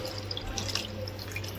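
A soft, steady stream of water pours and splashes into a pot of red chickpeas for misal, quiet and close with no talking.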